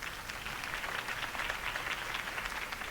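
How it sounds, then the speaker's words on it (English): Faint crowd applause after Harvey Dent's campaign speech in Batman: The Telltale Series, a soft, dense wash of many hands clapping at a distance, steady throughout, no voices. "If only Mr. Wayne, my campaign's largest backer, could have heard that applause"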